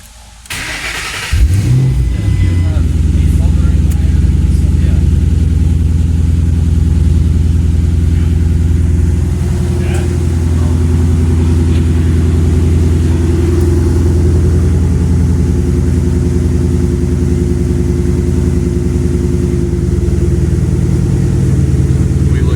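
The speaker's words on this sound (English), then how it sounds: "Starting the engine." A 2007 Roush Mustang with a fuel-dumping fault cranks and fires up, then settles into a loud, steady, close rumbling idle that holds with slight fluctuations throughout.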